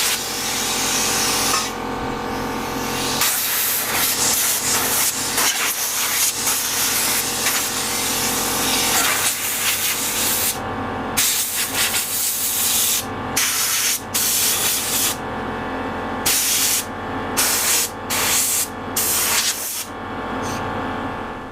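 Spray painting a Suzuki Streak Shadow motorcycle part: long steady hiss of aerosol paint in sustained passes, then shorter stop-start bursts with brief silent gaps, close and fairly loud.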